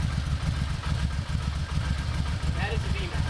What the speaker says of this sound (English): you kind of like blip the throttle just a little bit when you start it